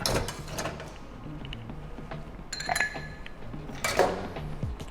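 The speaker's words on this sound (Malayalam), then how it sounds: "ഇതിലേക്ക് നമുക്ക് ഐസ് ആഡ് ചെയ്യാം." Ice cubes dropping and clinking into a glass for a virgin michelada, a few bright clinks and rattles, with the loudest burst near the end, and no talk.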